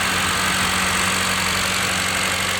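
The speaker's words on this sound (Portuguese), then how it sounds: "Motor frio, né?" A Honda Fit engine idling cold on ethanol fuel runs as a steady, even rumble close by, with no variation in pace throughout and no voices.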